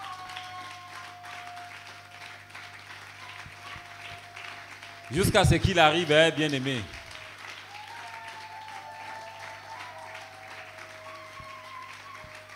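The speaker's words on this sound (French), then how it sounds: "Veuillons nous lever pour accueillir l'orateur du jour sous nos acclamations." A church congregation rises to acclaim the day's speaker with a loud burst of applause and cheering lasting about two seconds, set between stretches of quieter talk over a low hum.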